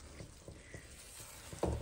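Flour halva gets stirred in a pan with a soft, faint scraping that repeats in a steady rhythm of a few strokes, ending in a louder sizzling scrape, with no talking.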